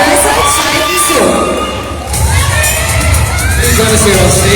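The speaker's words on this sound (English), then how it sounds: "Let's give a round of applause, please." A large crowd at the Miss Grand International 2022 pageant cheers and shouts over applause, loud and continuous with high whoops and excited voices throughout.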